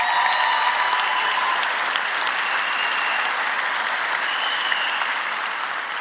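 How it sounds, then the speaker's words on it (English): Audience applause at a medical school graduation declaration ceremony, a sustained, even clapping from a large crowd in a hall, steady and moderately loud for the whole stretch with no voices over it. "Please give him a round of applause."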